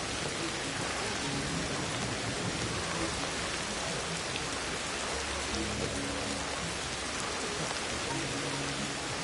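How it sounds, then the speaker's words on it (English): Steady, dense rainfall from the video game Ancestors: The Humankind Odyssey, a constant close hiss of drops with no voices and no letup. "When it's raining like this"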